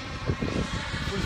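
TopRC Super Galeb G4 RC model jet in flight, a loud continuous rushing engine roar with a slight pulsing quality, steady across the short stretch.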